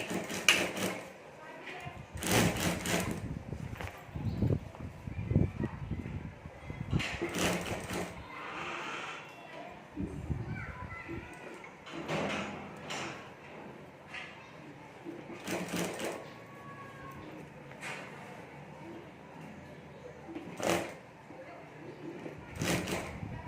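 A sewing machine stitches the border of a clutch bag in short, repeated bursts of rapid mechanical whirring, separated by pauses while a person talks nearby.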